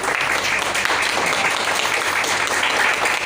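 Seminar audience clapping in a hall, a loud, continuous roar of many hands with a dense, even texture across the whole short stretch and no voices on top.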